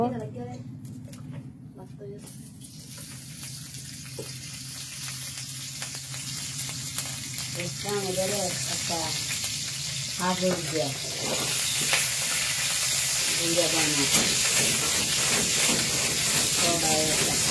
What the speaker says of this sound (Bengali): এই যে কাঁচা মরিচ এখন তেলের মাঝে ভাজা চলছে তেলের মাঝে ছাড়ছে খালি লাফালাফি করছে